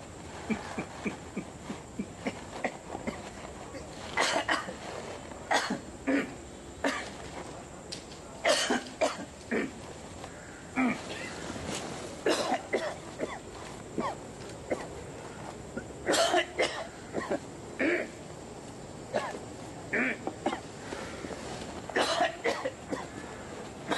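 Repeated harsh coughing from one person nearby, coming in irregular fits and bursts over a quiet room background.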